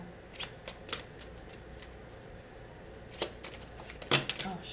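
Tarot cards being shuffled by hand, crisp riffling bursts and flicks in uneven clusters, close and fairly quiet, with a louder flurry near the end.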